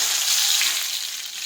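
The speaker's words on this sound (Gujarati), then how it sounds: "હવે આપણે તેમાં રાઈ અને જીરું નાખી દઈશું સમારેલી મરચી નાખીશું" Mustard seeds, cumin and chopped chillies crackle and sizzle in hot oil, a steady bright hiss filling the short stretch without any voices.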